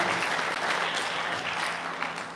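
Dense, steady applause from the audience at a police department promotion ceremony, even and sustained throughout.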